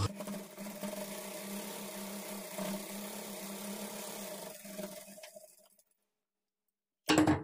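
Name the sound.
sewing machine stitching a kids' lehenga blouse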